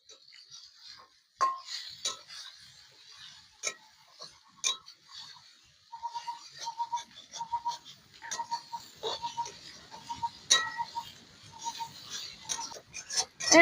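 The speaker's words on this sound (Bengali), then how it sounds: "এটা ভালো করে নেড়ে নেবো" Spice masala with sugar and salt being stirred in a cooking pot for chicken curry, heard as a series of light rhythmic scraping and tapping strokes, fairly faint with no talking.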